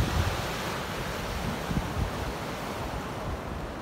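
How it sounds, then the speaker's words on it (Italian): Sea waves crash and roar continuously right beside the shore at night as rain begins, a dense steady wash of surf mixed with wind buffeting the microphone. "Mare con le onde così tutta la notte."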